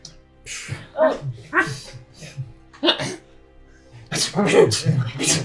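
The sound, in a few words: people imitating sneezes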